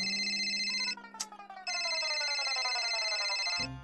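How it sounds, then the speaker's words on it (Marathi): Mobile phone ringtone playing a loud electronic melody close by, a sustained repeating tone that breaks briefly in the middle and then resumes before cutting off. "तिचाच फोन आहे"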